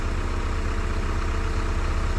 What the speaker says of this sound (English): it started right up. Seems to be idling good. Sounds good, smooth.